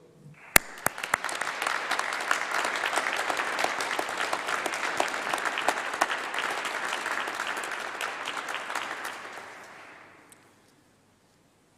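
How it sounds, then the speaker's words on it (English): A large graduation ceremony audience breaks into sustained applause, dense steady clapping filling the hall for about ten seconds before fading out. "let's give a round of applause to say thank you to all of your supporters and the people who made it possible"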